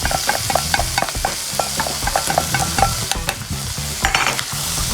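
Chicken hearts and livers sizzling in a pan while a spoon stirs them, giving close, quick scraping strokes and clicks over a constant frying hiss, with no speech.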